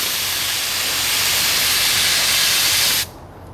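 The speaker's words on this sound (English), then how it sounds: "it does matter how you spray your glue" Adhesive glue sprayed from a can onto a car headliner, a steady loud hiss running unbroken for about three seconds before cutting off sharply.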